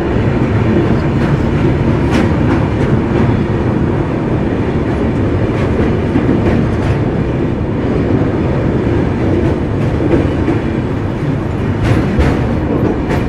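The Jalpaiguri Road–Sealdah Humsafar inaugural special train runs near Ranaghat Junction after crossing the Kalinarayanpur bridge, with a loud, steady rumble and recurring wheel clicks throughout and no voices.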